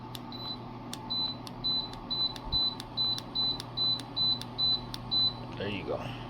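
Control panel of a Lasko Motion Heater beeps repeatedly as the temperature is raised, about a dozen short evenly spaced tones over a steady fan hum.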